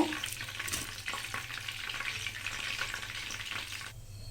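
Taro root vadai fry in hot oil in a pan, giving a continuous close crackling sizzle with light stirring scrapes that eases off near the end, with no talking.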